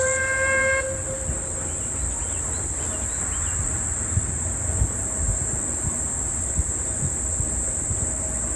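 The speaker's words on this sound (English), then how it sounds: "if you search steam traction engine on YouTube, you'll get plenty of videos like this" A steam traction engine chugs and rumbles steadily at close range, with a brief whistle-like tone at the start and a constant high hiss throughout.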